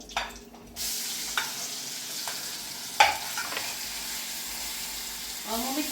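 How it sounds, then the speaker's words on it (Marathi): Green chili, cumin, garlic and ginger paste sizzling in very hot oil: a sharp burst of frying hiss as the paste hits the pan, then a steady close sizzle with a few stirring scrapes. "आता तेल हे फार गरम झालेलं आहे त्यात मी आपण जे हिरव्या मिरचीचा जो ठेसा बनवतात जिरं लसूण अद्रक आणि हिरव्या मिरच्या ते मी आता यात टाकते"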